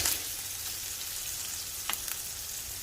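Unsalted butter melts in a pan with a close, steady sizzle, and a couple of small pops and utensil taps come near the end.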